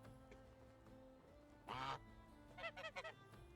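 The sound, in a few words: geese honking in Medieval Dynasty video game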